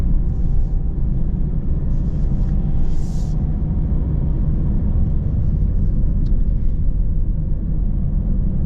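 A 2025 Mazda Miata GT with an automatic transmission accelerating, heard from inside the cabin as a steady, continuous low engine drone and road rumble with no talking.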